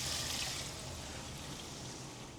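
A steady hiss of water streaming and splashing as it is poured continuously into a cooking pot for soup, lasting a couple of seconds without talk.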